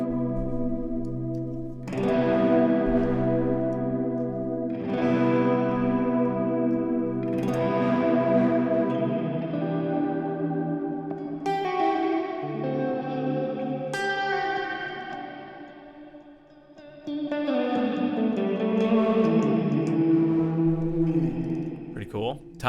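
Electric guitar played through an Axe-Fx III processor with its Plex delay effect and input diffusion engaged, sounding as sustained, layered chords that swell and smear into dense, shimmering echoes, loud and continuous with a brief dip before a final strum.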